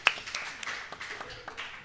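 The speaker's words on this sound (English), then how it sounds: "round of applause for Tibbles" Quiet applause inside a treehouse, scattered claps sounding over a thin wash of clapping.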